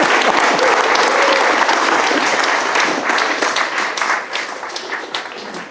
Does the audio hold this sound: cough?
no